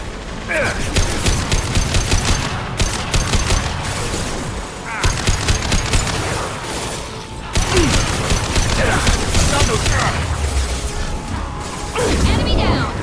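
Rapid gunfire from the video game Mass Effect 2 in dense, sustained bursts, broken by brief pauses and laced with mechanical clatter and whooshes, loud and close throughout.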